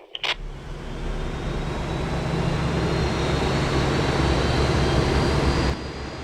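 A Boeing 737 engine at a hangar spools up into a loud, steady broadband roar with a faint rising whine, holding constant for several seconds before cutting off abruptly, with no voices.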